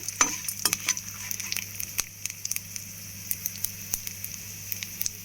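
Dried red chillies frying in a little oil with garlic for a chickpea fry, giving a close, crackling sizzle with sharp pops and spatters over a low background hum, with no one talking.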